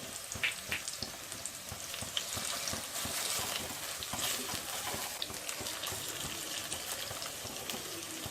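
Spring onions frying in a pan with turmeric and ginger garlic paste for an egg curry, a steady close sizzle with scattered crackles and occasional stirring scrapes, running continuously at moderate volume.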